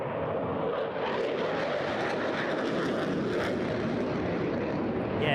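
A display aircraft flies overhead at the Eastbourne International Airshow by the sea, its steady, broad engine roar filling the air throughout with no break.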